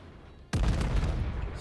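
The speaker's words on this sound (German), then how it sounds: "So. Schüsse sind da auf dem Weg." A naval gun salvo in World of Warships, fired by the battleship Nikolai I, breaks out as a sudden loud boom after half a second of quiet hum, then rumbles on heavily.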